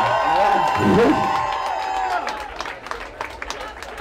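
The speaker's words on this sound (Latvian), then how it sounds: "Lūdzu, uztaisiet aplausus Slam Rodžeram!" Live audience applause and cheering for a performer called Slam Rodger at a Latvian event, a dense burst of clapping that swells early and then thins into scattered claps and whoops.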